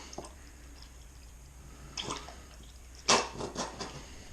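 Water poured from a ketchup bottle into a homemade BBQ sauce, heard as a few short liquid splashes and drips, loudest near the end, close and alone with no talk.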